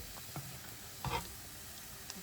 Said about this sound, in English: I got my corn over here frying because that's going in too